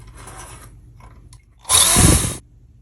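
A power drill whirs loudly for under a second in a single burst, drilling a small hole while building a 3C24 vacuum tube amplifier, after quieter faint clicks and handling noises.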